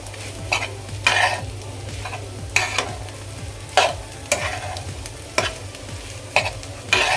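A spatula stirs cauliflower and egg bhurji in a sizzling pan, with sharp scraping strokes about once a second over a constant close frying hiss.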